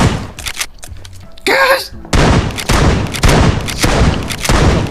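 Bursts of video game gunshots, dense and loud, first scattered sharp cracks then a heavy stretch of repeated firing, with a brief exclamation from a player.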